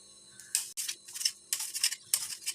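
A knife cuts tomatoes for a tomato pickle in several short, close, crisp slicing strokes with small taps, evenly spaced over a few seconds and without talking.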